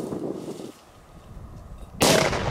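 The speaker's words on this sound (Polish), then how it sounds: "Lepiej się ten po prostu huk odbija, bo jest zamknięta jakby ta petarda" A quiet, muffled stretch ends in a single sharp, loud bang of a firecracker going off under a pot, its boom ringing briefly as if enclosed.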